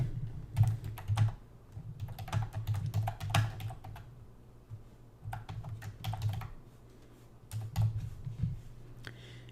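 Someone types a short name on a computer keyboard: quick, close clicking keystrokes in steady bursts with brief pauses between them, fairly quiet and alone with no talking.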